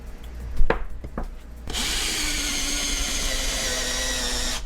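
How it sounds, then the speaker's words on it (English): A power drill bores into a wooden piece to set a bolt, starting with a few sharp knocks before the motor kicks in, then a steady loud whirring grind that holds for several seconds, close by and alone. "The idea here is I'm gonna drill into it so I can set the bolt"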